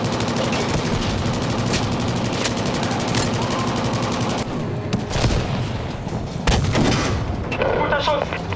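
Gunfire and tank cannon shots in Battlefield 5 crack and boom through steady loud battle noise, with several sharp blasts standing out across the din.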